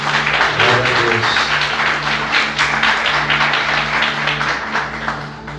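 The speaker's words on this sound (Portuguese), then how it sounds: "Você pode aplaudir Jesus bem forte?" Church congregation applauding strongly during a sermon, dense steady clapping filling the room throughout, with music or tones sustained underneath.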